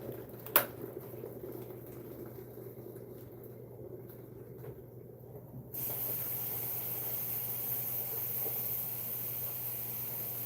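A pot of water heating for cooking an egg gives a low steady hiss and bubbling rumble that grows louder and brighter partway through, with a brief clunk near the start.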